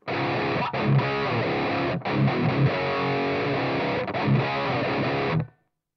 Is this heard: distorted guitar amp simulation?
yes